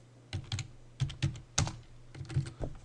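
Short bursts of keystrokes on a computer keyboard, entering a command in modeling software, a few quick clicks in three small groups, near and soft, no voices.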